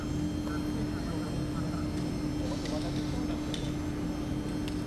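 A Hercules military transport aircraft arriving carrying medical equipment, a steady broad engine roar throughout, with a person speaking over it.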